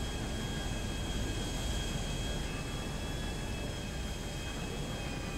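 An enemy Hydra jet in GTA V makes a steady, continuous roar and whine that stays at an even level throughout.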